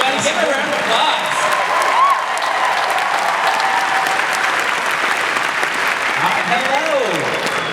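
A large comic con panel audience breaks into steady, loud applause that fills the hall without letup, with voices and cheers faintly mixed into the dense clapping.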